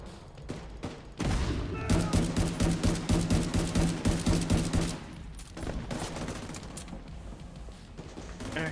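Rapid automatic gunfire in The Division 2 rattles in a steady burst of rhythmic shots for several seconds, loud and close, then gives way to scattered single cracks and combat ambience.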